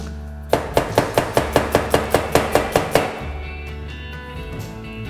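An onion being chopped with a knife on a cutting board for a pea and shrimp cream soup: about a dozen crisp, evenly spaced chops in a quick steady rhythm, close and clear, then a quieter pause.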